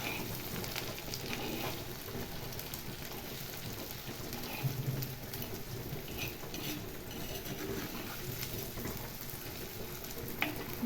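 Okra stuffed with masala paste frying in a pan while being stirred slowly, giving a dense continuous crackling sizzle, close and steady, with faint scraping throughout and no talk.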